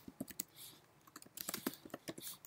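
A computer keyboard types a terminal command as quick, faint, irregular clicking keystrokes in close succession, alone without talk.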